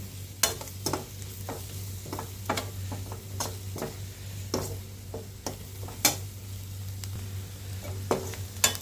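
A spoon stirs sizzling masala in oil in a clay pot for an eggplant curry, giving irregular scraping clicks and taps over a soft, constant frying hiss.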